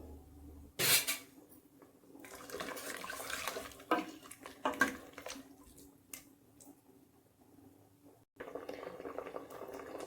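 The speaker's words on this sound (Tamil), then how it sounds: "புளி ஊற்றி ஒரு கொதி வரட்டும்." Tamarind water poured into simmering radish sambar and brought to a boil, giving a close, splashy pour then steady bubbling and liquid sounds with a few clinks, without talk.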